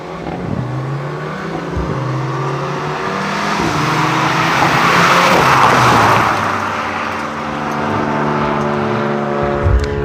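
A 381-horsepower car accelerates hard up close: the engine note climbs through several rising revs, swells to a loud roar mid-run, then settles into a strong steady drone. No talking is heard.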